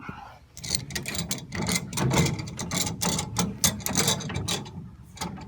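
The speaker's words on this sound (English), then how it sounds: "So now I'm gonna crank it back up." A jack being cranked back up while fitted with elephant foot jack pads: rapid ratcheting clicks in a steady rhythm, close and fairly loud throughout.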